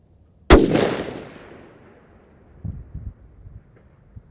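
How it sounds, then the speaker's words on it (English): A long-range rifle shot cracks sharply and booms, its echo rolling away, then about two seconds later faint distant thuds of the bullet striking a target at 1000 yards; outdoors with light wind. "From hearing the gunshot to then hearing it land, like there's like almost a 2-second wait"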